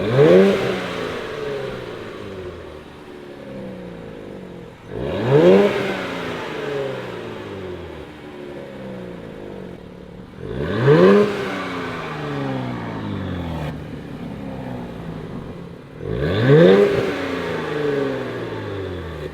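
A 2023 Nissan Z with high-flow catted downpipes revs hard four times at regular intervals, each rev a loud rising roar that falls back to a steady idle between bursts, with no talking.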